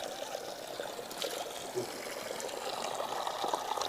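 Water trickles steadily from a spring spout in a Tehri Garhwal mountain village in Uttarakhand, a continuous close splashing flow with no talk over it.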